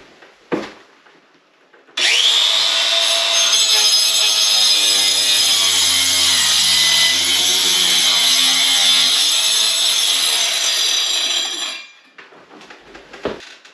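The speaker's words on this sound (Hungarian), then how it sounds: "Így már nem szorul be a fűrész." A hand saw rasps steadily through a wooden beam for about ten seconds, a continuous loud scraping with a faint knock before it starts and a few after it stops.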